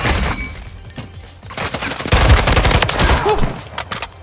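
Dense gunfire from a Call of Duty: Modern Warfare 3 search-and-destroy match: loud, overlapping bursts of rapid shots that build into a sustained volley through the second half.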